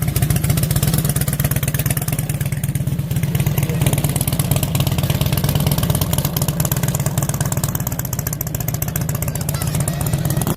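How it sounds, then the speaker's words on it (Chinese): A modified Harley-Davidson with a fish-tail exhaust, an aftermarket air filter and low handlebars idles close by. Its deep, steady, loping rumble continues without a break throughout. "其实改装鱼尾排气，它的声浪不会更好听，也不会更浑厚"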